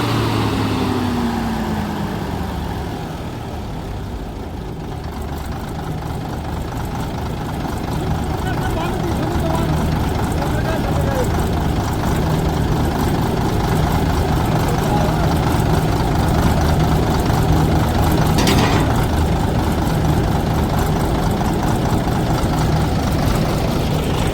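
A diesel wheat harvesting machine's engine runs outdoors with a continuous loud low rumble and idle, a brief rising whine early on, while people talk over it.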